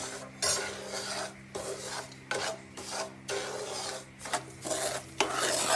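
Semolina roasted in ghee over a low flame, stirred with steady, rhythmic rasping scrapes of a spoon against the pan, close and moderately quiet with no talk.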